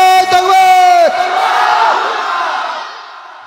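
A single voice calls out the takbir at a rally, then a large crowd answers with a loud collective shout that swells and slowly fades away.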